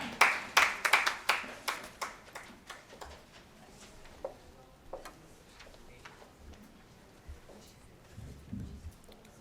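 Audience applause welcoming the chief guest on stage at a Nepali social audit event: a brisk burst of many hands clapping that fades over a few seconds into scattered claps and quiet room murmur.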